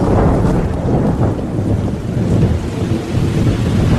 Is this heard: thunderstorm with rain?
yes